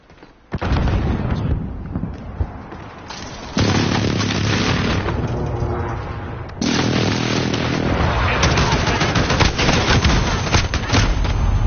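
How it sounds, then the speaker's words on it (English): A friendly precision airstrike in a combat video game hits with loud, dense explosions and gunfire, building into a sustained roar of booms with sharp jumps in intensity. "Friendly precision airstrike on the way."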